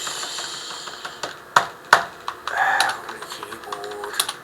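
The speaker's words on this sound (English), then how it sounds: "We've got a new keyboard." Typing on a new computer keyboard produces close, uneven key clicks with a few sharper louder strikes and a quieter patter in between.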